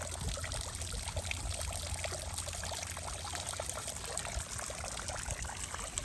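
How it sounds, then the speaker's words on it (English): Water trickles steadily in a small garden fountain at a Mackinac Island cottage, a continuous soft splashing and babbling that stays even and close with no voices over it. "just kind of listening to that water trickle here in the fountain"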